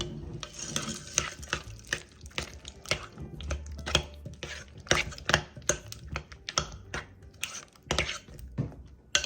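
A spoon stirs melted white chocolate chips and sweetened condensed milk in a bowl, giving a quick, irregular run of close scraping clinks and knocks with no talking.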